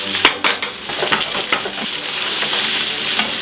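Pesto pasta tossed in a hot pan, a continuous bright sizzle broken by quick scraping and clattering bursts as the pasta is turned over, close and fairly loud.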